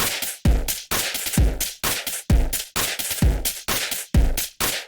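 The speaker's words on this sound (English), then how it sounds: "So I'm distorting all the drums." A drum kit run through the Runa distortion plugin plays a fast, steady groove of harsh, crunchy, clipped hits with heavy low thumps, loud and alone.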